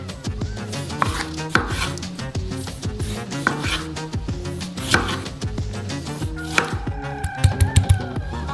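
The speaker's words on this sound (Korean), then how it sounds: "조각으로 썰어주세요." A tomato chopped into slices on a cutting board, a brisk series of close knife thuds in an uneven rhythm, ending in a quicker run of cuts, with no one speaking.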